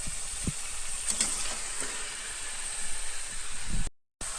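Chicken pieces hit a hot pot for biryani, giving a steady broad sizzling hiss that holds evenly for about four seconds, close and moderately loud, before a brief cut to silence.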